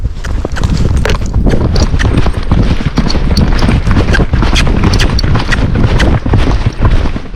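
A Tennessee Walking Horse mare canters uphill on a trail ride, her hoofbeats thudding close and loud in a steady, rolling rhythm with saddle creaks over the whole stretch.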